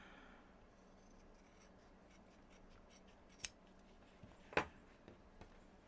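Scissors snip through leather for a handmade medicine bag, giving one sharp cut near the middle and a louder, crisper snip shortly after, with a few faint clicks around them in a quiet room.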